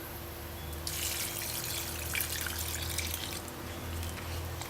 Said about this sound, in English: just pour a little white rum in it